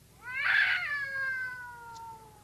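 A cat caterwauls outdoors as a sound effect in a 1949 radio comedy: one long, loud, wavering yowl that swells, then slowly trails off, alone without talk.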